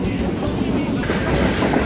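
A train rumbles with a steady clatter of wagons while crossing Khanpur station on a journey toward Sadiqabad, a continuous close roar filling the moment.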